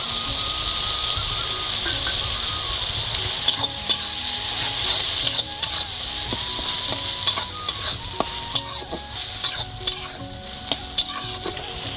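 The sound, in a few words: mustard paste added and stirred in a frying pan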